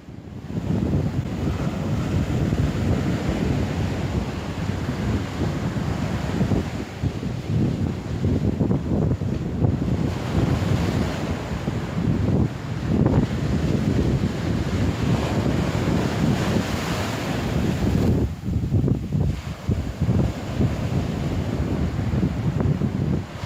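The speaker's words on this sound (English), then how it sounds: "Yes, this is a beach, and everybody has seen beaches and everybody knows what it is." Ocean waves break on a beach in steady wind, a continuous loud roar of surf with gusty microphone buffeting and rising swells over about twenty seconds.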